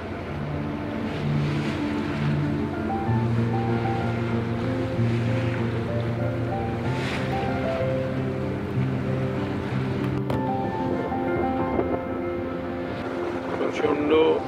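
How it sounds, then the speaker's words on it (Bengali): Strong wind and choppy river waves buffet a rocking launch boat crossing a wide river beyond a narrow forested creek, a steady loud rumble of engine and water throughout with a brief knock near the end. "প্রচণ্ড হাওয়া দিচ্ছে, এবং নদীর এই ঢেউয়ে আমাদের লঞ্চ কীরকম দুলছে দেখছেন তো"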